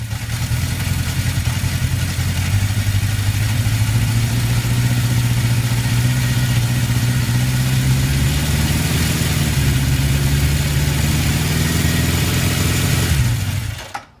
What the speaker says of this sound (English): There we have a nice smooth engine running well.